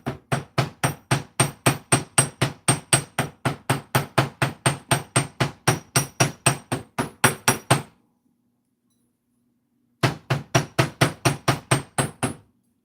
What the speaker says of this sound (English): And you just take your hammer and go down and push away.